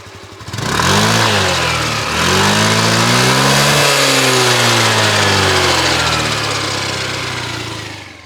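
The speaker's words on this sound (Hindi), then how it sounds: "वन 25 सीसी सेगमेंट का स्कूटर आवाज़ कैसे करता है" A loud, close Hero Xoom 125 scooter engine revs up, dips briefly, then climbs again and holds a high, droning whine before easing off slightly.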